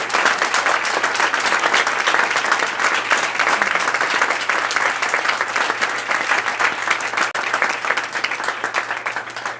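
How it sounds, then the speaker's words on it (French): Audience applause at a political nomination ceremony, dense and loud sustained clapping from a large crowd that carries on evenly throughout, tapering only slightly at the end. "Une bonne main d'applaudissements pour vous"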